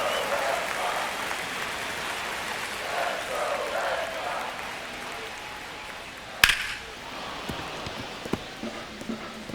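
A baseball stadium crowd in MLB The Show 25 murmurs and cheers as a diffuse, steady roar, building during a Red Sox–Marlins at-bat, with a sharp crack partway through and a few smaller knocks after.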